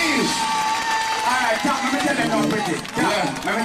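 Dense crowd at a dancehall clash between two artists in 2004, roaring with applause and cheers, loud and continuous, with voices shouting and talking over the din.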